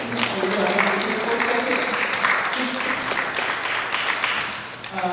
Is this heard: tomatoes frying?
no